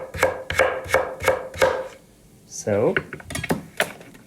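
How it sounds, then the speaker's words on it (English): A knife chops vegetables on a board in five even, crisp strikes, then a brief voice speaks before a few more chops follow. "the more fine you chop them, the more fast it works"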